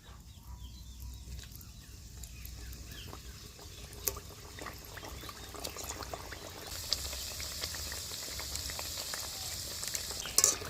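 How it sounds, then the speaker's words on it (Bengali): Wheat flour nimki frying in a pan of hot oil, a steady low crackle and bubbling hiss that carries on without pause, with faint clinks and a slightly brighter sizzle toward the end. "বাকি নিমকিগুলো ভাজার আগে তেলটা খুব ভালো করে গরম করে নেব"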